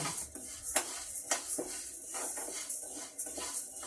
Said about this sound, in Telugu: చూసారా నేను ఎలా కలుపుతూ ఉన్నాను, ఎందుకంటే ఒకే చోట అవి పప్పులు మాడిపోకుండా మనం అలా వేయించుకోవాలి